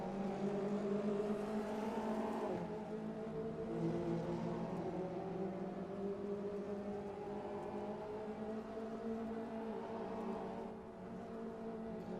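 Ginetta Junior race cars in a sim racing game drone steadily through a corner battle, a continuous layered engine hum with shifting pitch and no voices.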